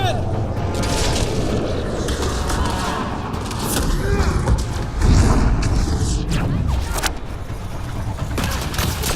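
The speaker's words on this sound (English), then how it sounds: "Grenade!" A grenade goes off in Mass Effect: Andromeda on PS4 as a loud, deep boom midway through, layered over ongoing combat noise and background voices.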